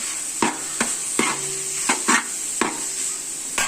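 Chopped carrot sizzles with sautéing capsicum in a pan. A steady fry hiss runs throughout, and roughly six sharp stirring clacks and scrapes of a utensil against the pan come at irregular intervals.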